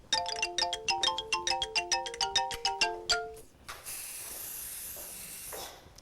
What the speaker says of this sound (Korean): 다시 스프레이 주시고